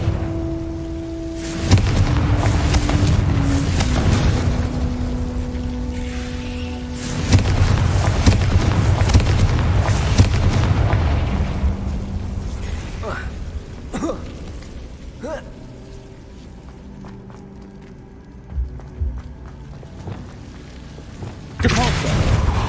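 Fiery Confringo spell blasts in Hogwarts Legacy erupt as deep, rumbling booms with crackling tails, several heavy explosions rolling under swelling game music, fading to quieter effects before a final loud burst.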